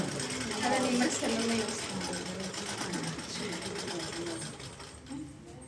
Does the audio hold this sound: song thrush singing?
no